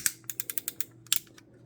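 A ratcheting joint on a chrome GigaPower Superator robot toy gives a quick series of sharp, close plastic clicks, about eight in a row, then a short pause and a few more ticks.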